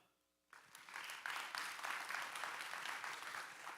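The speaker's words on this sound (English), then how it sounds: "let's give a round of applause for Focus CFO" Audience applause at a youth resilience summit: after a brief quiet moment, a room full of people breaks into steady, sustained clapping that holds to the end.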